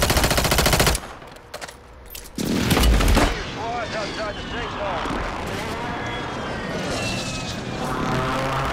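Video game battle with a chopper overhead and gunfire, a loud rapid burst of machine-gun fire at the start, then a sustained rotor and engine roar with more shots, under players' talk.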